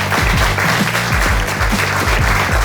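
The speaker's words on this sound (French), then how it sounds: "Applaudissements pour Zieu Eben, s'il vous plaît." Loud, dense audience applause at a French acting-competition show, continuous and close for its whole short length with no talking over it.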